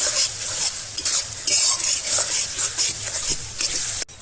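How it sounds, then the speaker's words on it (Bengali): Garlic paste, cumin paste and turmeric fry in a pan while being stirred for duck curry, giving a loud continuous sizzle with rapid, busy scraping of a spatula that ends abruptly. "এবার নেড়ে চেড়ে কষে নেব একটু"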